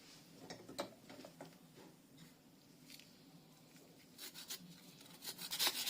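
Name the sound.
grating turnip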